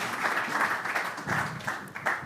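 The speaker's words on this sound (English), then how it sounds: "a round of applause" Audience applause at a women's football event as a panel takes the stage, a moderate and fairly distant clapping that swells and dips over about two seconds.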